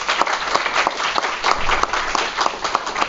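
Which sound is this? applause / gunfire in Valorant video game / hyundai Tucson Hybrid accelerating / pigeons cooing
applause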